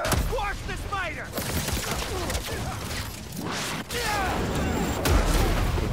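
Gunfire and explosive booms in the Spider-Man 2 video game, rapid crackling shots and crashes layered with chirping effects and game music, continuous and loud throughout.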